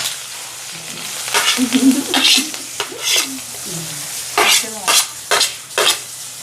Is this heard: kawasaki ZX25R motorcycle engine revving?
no